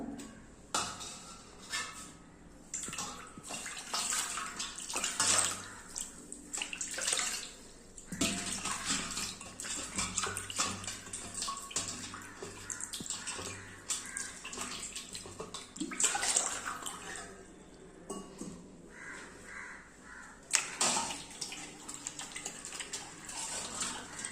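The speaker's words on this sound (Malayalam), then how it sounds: "ഇനി നമുക്കിതൊന്ന് ഒരു വെള്ളത്തിലേക്കൊന്ന് കഴുകിയെടുക്കാം" Brass oil lamps are rinsed by hand in water, with steady splashing, sloshing and running-water noise continuing throughout, close and fairly loud, without any talk.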